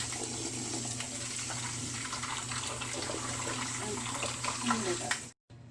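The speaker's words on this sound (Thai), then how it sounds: "เราก็มาล้างกับน้ำเย็นนะคะ" Boiled spinach is rinsed under cold running tap water for japchae, a steady close splashing flow that cuts off abruptly near the end.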